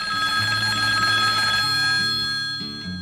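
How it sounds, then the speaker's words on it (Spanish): One of three telephones on a wide office desk rings with a loud, continuous electronic bell tone that fills the whole stretch, steady and up close, with no voices over it. "sonó uno de los tres teléfonos que estaban sobre su amplio escritorio"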